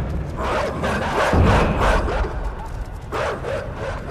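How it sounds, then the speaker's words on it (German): Dogs in the video game Inside bark and yip in several bursts over a loud, rumbling game soundscape, fairly close, with no talking. "Blöde Köter, geh weg!"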